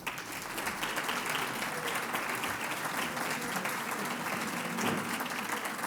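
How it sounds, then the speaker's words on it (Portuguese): Sustained audience applause at a talk on overcoming adversity in life and sport, steady dense clapping from a seated crowd throughout, moderately loud with no speech over it. "Uma salva de palmas."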